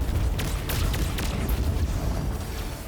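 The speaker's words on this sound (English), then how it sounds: "Detonate all explosives. Big boom. Big booms." Explosives detonating in the video game Destiny 2, a loud, dense stretch of rumbling booms and bursts overlapping one another in a continuous low roar with sharper cracks mixed in.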